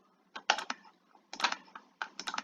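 Clicks from a computer keyboard come in three quick bursts of several keystrokes each, close and crisp against near silence.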